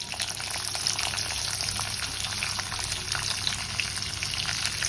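Steady, loud sizzling and crackling of spices, chana dal, curry leaves and dried red chilies frying in hot oil for lemon rice, continuous throughout with no talking.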